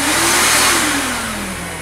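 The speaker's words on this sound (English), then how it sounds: "I have to turn the vacuum on." A screen-printing vacuum table's vacuum motor runs loudly close by, a steady whooshing roar whose hum slowly sinks in pitch, with no talking.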